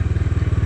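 A Bajaj Dominar 250 engine lugs at about 20 km/h in third gear, making a rapid, even string of low knocking thumps close by, with no talking.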